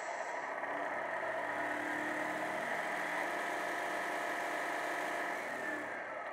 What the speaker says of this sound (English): you can hear that the noise of the truck will go up with the revs of the motor